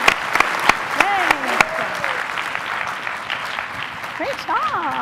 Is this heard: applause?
yes